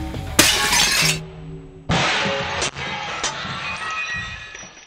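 A ceramic toilet dropped and smashing: a sharp loud crash with bursting shards, then a second heavy impact and scattered clinking pieces settling, close by, with no talk.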